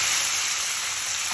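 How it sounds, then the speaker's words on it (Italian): Drained, very al dente vermicelli tipped into a frying pan where garlic has been cooking, giving a loud, steady, hissing sizzle throughout. "E scolati molto al dente li mettiamo direttamente in padella."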